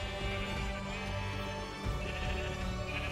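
A sheep bleats in the Minecraft video game near a sheep enclosure, heard faintly within a continuous dense bed of game sound.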